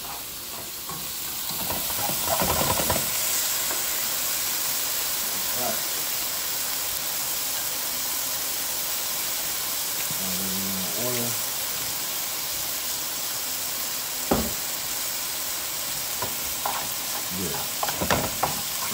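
Teriyaki chicken and broccoli simmer in a pan with a steady, close sizzle and bubbling hiss, broken by a few clinks and stirring scrapes; a voice speaks briefly partway through.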